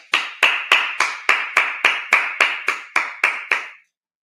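A congregation at a Sabbath service claps in a steady, even rhythm, about a dozen sharp claps in a row, close and clear, then stops.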